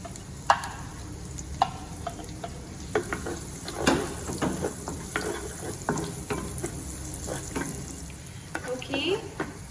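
Finely chopped garlic and shallots fry in a pan while being stirred, with a steady low sizzle and scattered clicks and scrapes of a utensil against the pan throughout.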